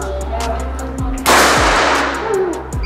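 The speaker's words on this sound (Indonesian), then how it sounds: "Langsung saja kita tes di tembakan yang pertama" A single sharp crack from a Mouser OD38 PCP air rifle fired during a chronograph test, a loud close burst with a brief hissing tail over steady background hum and faint repeated ticks.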